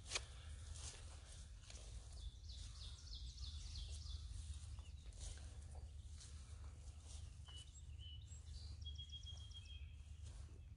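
A song sparrow sings faint, distant trilled phrases during a spring bird walk at Landis Arboretum, set against a low steady outdoor hum with soft rustling.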